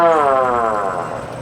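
A Federal Signal free-coasting mechanical siren winds down, its steady rising-pitched wail sliding lower and fading as the rotor coasts to a stop, loud and close with no talk.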